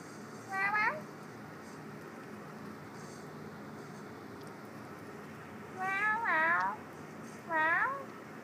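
A cat meows a few times, one short call early and then a pair of longer, rising meows later, fairly close against quiet room noise.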